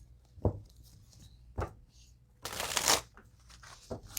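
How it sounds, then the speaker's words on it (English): Tarot cards shuffled during a card reading: a few soft taps and thumps, then a longer riffling burst in the middle, close and fairly quiet. "Why did I shuffle?"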